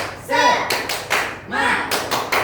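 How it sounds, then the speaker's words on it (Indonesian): A class of schoolchildren in an elementary classroom claps out a rhythmic patterned cheer, sharp bursts of hand claps in grouped beats with voices chanting along. "Ayo kita tepuk semangat 1 kali lagi."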